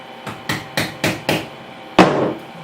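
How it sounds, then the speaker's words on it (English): A hammer knocks a part of a refurbished Sabre Ireland gentleman's pocket knife down flush, giving four quick, evenly spaced sharp taps and then a heavier final blow, close and clear with no talk. "now I'm just going to go with the hammer and knock this down so it can sit flush"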